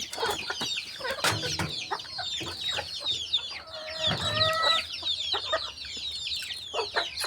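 Chickens, both hens and chicks, cluck and cheep busily nearby in a rural yard, with short overlapping calls and a few louder squawks and no voices.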